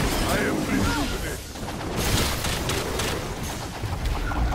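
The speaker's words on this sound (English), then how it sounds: "Shoot, keep firing, guys, keep firing." Gunfire in the Evolve video game, a dense, continuous rattle of shots and impacts mixed with game effects, with a voice talking over the steady barrage.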